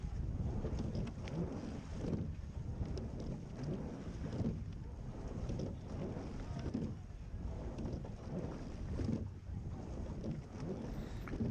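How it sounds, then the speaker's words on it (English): Fast rowing gig from New Bedford, built by John McCoy, moving across open water during a race, heard as steady wind buffeting and rushing water with rhythmic surges, continuous and close. "To my left, you'll see a very fast gig from New Bedford, built by John McCoy."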